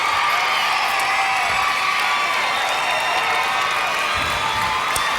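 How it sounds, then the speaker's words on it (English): A dense, steady wash of audience clapping fills a 2007 Miss Arkansas pageant hall, with cheering and whoops from the crowd carrying on evenly throughout. "Let's give them all a round of applause."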